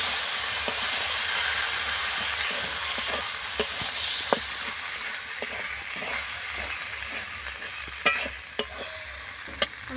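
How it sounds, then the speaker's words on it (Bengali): Spiced meat with salt sizzles as it fries in a pan and is stirred steadily, with a continuous soft hiss broken by sharp clinks and scrapes of the spoon. "এবার এইগুলোকে সব ভালোভাবে মিশিয়ে নেব।"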